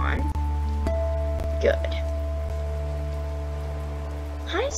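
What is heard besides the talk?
rain falling in the video game Wolf Quest 3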